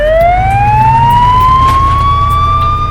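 A loud, close ambulance siren wails with a rising tone, over the rumble of the moving ambulance.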